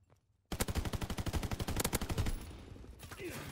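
Rapid automatic gunfire from a first-person shooter video game erupts abruptly, a loud, dense burst of evenly spaced shots lasting about two seconds before easing into a lower rattle.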